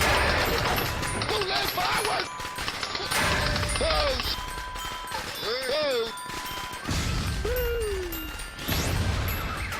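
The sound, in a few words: firecrackers exploding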